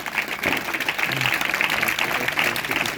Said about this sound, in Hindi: प्रभु यीशु मसीह के लिए जोरदार ताली बजाइए सब